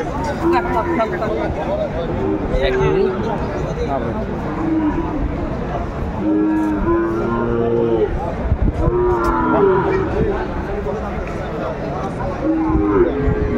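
A Sahiwal bull calf lows repeatedly at a busy cattle market in Cumilla, its moos rising over steady crowd chatter and bargaining voices that run throughout.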